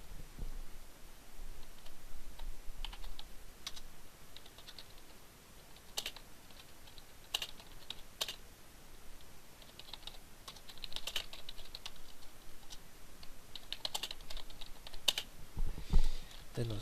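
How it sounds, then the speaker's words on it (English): Someone types on a computer keyboard into a Microsoft Word 2007 document on Windows Vista, producing scattered bursts of light key clicks over a quiet background. "You can even type in your text document for your testing purposes."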